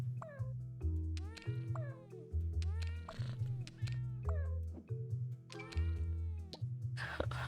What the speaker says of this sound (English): Oh look, you found a new cat.